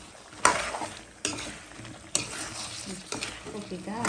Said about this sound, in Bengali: কপিটা আর বেগুনটা একটু কষিয়ে নেব।